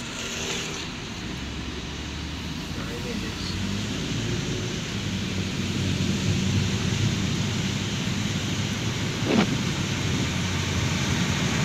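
Steady rain drumming on a car during a foggy morning drive, a dense continuous wash of noise with low road rumble underneath, close and even throughout.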